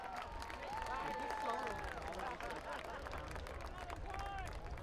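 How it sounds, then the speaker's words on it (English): Stadium crowd at a college football game, RPI against the University of Rochester, applauding and cheering in a steady broadband wash of clapping and hubbub, with scattered whistles and voices rising through it. "Let's give him a round of applause."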